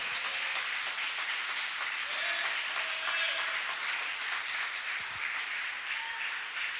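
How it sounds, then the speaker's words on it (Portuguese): A church congregation claps during a sermon, a steady crowd of hands at moderate loudness, with some voices and a few tonal sounds mixed faintly under the applause. "E se é para aplaudir a Ele, por isso aplaude."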